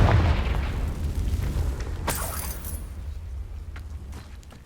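A Confringo blasting spell explodes in the video game Hogwarts Legacy, a loud low boom that fades into a rumbling tail, with a sharp crackling burst about two seconds in.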